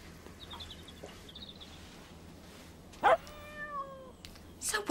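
A cat gives a short, clear meow partway through, then a louder yowl near the end, set among quiet outdoor background noise with faint bird chirps.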